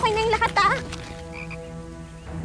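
A frog croaks in a Filipino fantasy show episode, giving a few short, pitched warbling croaks at the start before fading into a quiet, tonal background.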